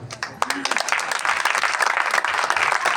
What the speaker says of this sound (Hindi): मेरा दिल कर रहा है मैं आपके लिए तालियां बजाऊं।